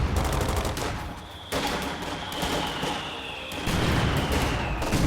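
MG42 machine guns fire in Company of Heroes 2, a sustained rapid rattle of overlapping bursts with dull thuds, continuous and loud throughout, briefly easing in the middle before resuming at full intensity.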